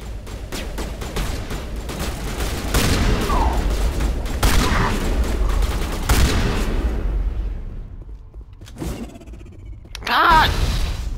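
Shotgun blasts from a sci-fi shooter game, Mass Effect, ring out in several loud, sharp bursts over a dense backdrop of combat noise, with a brief lull before another blast near the end.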